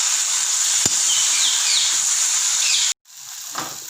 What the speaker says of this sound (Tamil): தக்காளியை நல்லா வதக்கிக்கணும்.